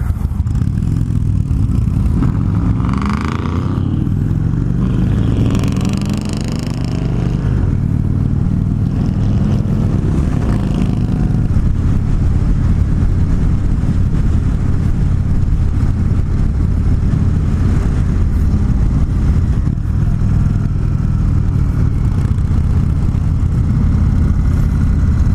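Indian Chief Classic motorcycle engine while riding and downshifting, a loud continuous rumbling drone with wind noise and shifting engine pitch, no talking.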